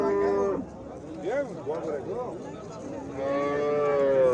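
Cows at the Oltiariq livestock market give several long, close, drawn-out moos one after another, with faint market bustle underneath.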